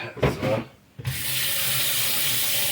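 After a few brief knocks and rubbing sounds, a tap turns on and water pours steadily into a pot, a loud, even hiss.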